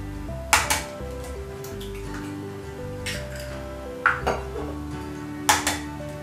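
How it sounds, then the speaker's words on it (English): Eggs cracked into a bowl for Yorkshire pudding batter: sharp taps and clinks against the rim come in short pairs, close and clear, with ringing tones from the bowl between them, no talk. "So then we're going to crack in the eggs."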